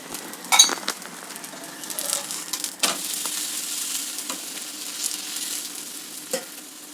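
Vegetables sizzling in a little oil on a hot tawa, with steady frying hiss and occasional scrapes and clinks of a spatula stirring, close and moderately quiet with no talking.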